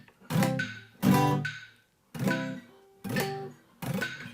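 Guitar chord changes strummed fast and sloppily at 70 bpm, five separate loud strums with short ringing decay and gaps between them, heard alone.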